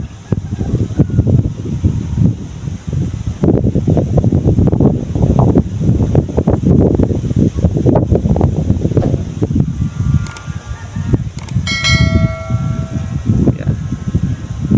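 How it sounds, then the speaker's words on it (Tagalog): A strong monsoon wind, known locally as habagat, roars continuously across the microphone in loud gusty surges by the sea, with a few brief faint tonal chirps late on. "napakalakas talaga dito ng hangin"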